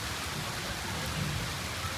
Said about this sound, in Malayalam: മഴ ചാറിണ്ടിട്ടാ മഴ ചാറുണ്ട്